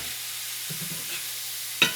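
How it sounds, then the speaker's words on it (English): Faint, steady sizzle of collard greens frying in a pan, with a few soft stirring scrapes and a brief louder clatter near the end. "Straight up frying. That's what we got them doing now."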